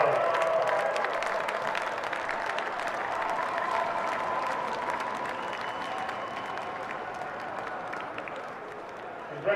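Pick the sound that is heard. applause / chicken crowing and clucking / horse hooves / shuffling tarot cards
applause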